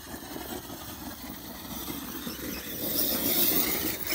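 A Kyosho RC car running on a 4S battery gives off a steady broadband whir with a high whine, swelling louder toward the end.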